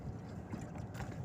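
Steady, dull wind rumble buffets the microphone on a small boat at sea off Cebu City during crab trapping, a continuous low roar with no clear voices.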